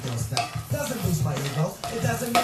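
Butter melting over very low heat in a pan for coating nuts, with soft sizzling, stirring and scraping of a utensil against the pan, and occasional clinks.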